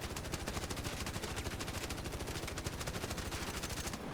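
Rapid sustained automatic gunfire from a Torrente weapon in the game Arc Raiders, a dense steady stream of evenly spaced shots running without pause, loud and alone before cutting off at the end.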